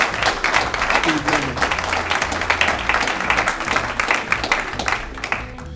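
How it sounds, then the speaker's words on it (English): Sustained applause from an audience at a town's annual State of the Town address, honoring local organizations; dense, steady clapping fills the whole stretch at fairly loud level with a crowd murmur beneath. "Please give a round of applause to those organizations."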